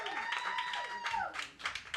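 A comedy club crowd at a live stand-up special claps in short bursts, patchy applause rising and falling across two seconds over a ringing tone, fairly quiet and distant-sounding, with a voice threaded through.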